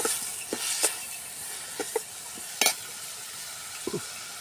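Onions or spices sautéing in a pan for a village-style peas kurma: a soft, continuous sizzle broken by several sharp scraping stirs of a spoon.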